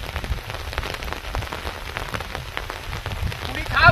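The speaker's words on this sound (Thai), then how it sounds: "บรรยากาศวัดฝนตกเนาะ" Heavy rain pours down at night on the grounds of a temple, a steady, dense hiss of drops hitting surfaces that runs without a break and grows slightly louder at the end.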